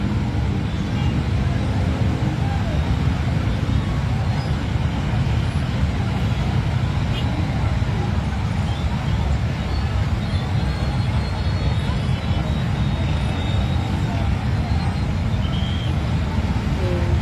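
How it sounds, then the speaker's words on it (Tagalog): Heavy road traffic in the Philippines, a steady dense rumble of engines and vehicles with no break, loud and continuous throughout. "Sobrang traffic."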